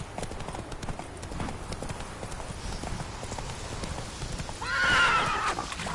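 In The Witcher 3, a horse gallops with steady rapid hoofbeats, and a clear whinny rises near the end over the continuous clip-clop.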